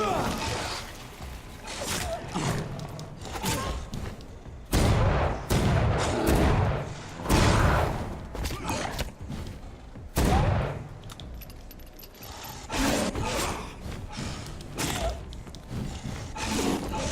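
Gunshots in the video game Vampyr crack out in quick, loud bursts, some in rapid clusters, with someone talking between and over the shots.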